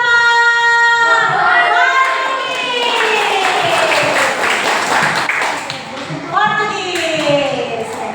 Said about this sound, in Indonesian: Bagi tepuk tangan untuk kelompok